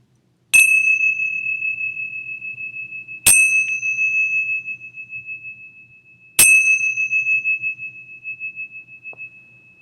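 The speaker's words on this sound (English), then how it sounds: "Preparing to open our eyes as I ring the bell." A meditation bell rings three separate times with long clear tones, each strike left to ring out and fade before the next, in a quiet room.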